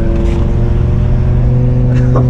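A straight-piped V10 BMW M6 engine runs loud and close with a rough, steady drone that swells slightly, while people talk over it.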